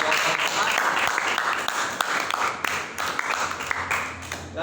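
Classroom applause for two student groups who answered correctly, a busy patter of many hands clapping with a few louder claps standing out, mixed with voices talking throughout.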